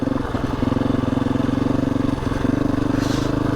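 A motorcycle rides slowly over stones, the engine chugging steadily at low revs with a rhythmic pulse, close and continuous, with slight clatter under it.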